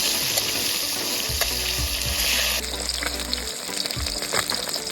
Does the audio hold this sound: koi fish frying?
yes